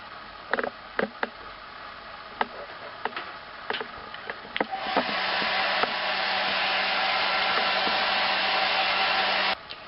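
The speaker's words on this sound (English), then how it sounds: "Dry this with a hairdryer." Several sharp clicks and taps come first, then a hair dryer switches on and blows with a loud, steady whoosh until it cuts off abruptly.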